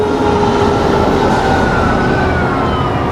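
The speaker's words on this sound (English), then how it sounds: "We got a fire engine." Loud, continuous siren wail with steady tones over heavy rumbling engine noise, close and sustained without pause.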